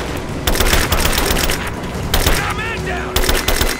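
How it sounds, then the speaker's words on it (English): Rapid, dense gunfire in the video game Rise of the Tomb Raider, close and loud with repeated bursts and booming shots, and shouted voices mixed in. "Open fire!"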